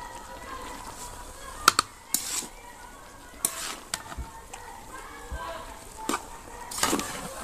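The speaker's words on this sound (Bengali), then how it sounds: "মশলার সাথে বাঁধাকপিটা আর একটু নাড়াচাড়া করে তারপর পানি দিয়ে দিব পরিমাণ মতো।" Cabbage and spices sizzle in a cooking pot while a utensil stirs, scrapes and clicks against the metal at irregular intervals over a constant frying hiss.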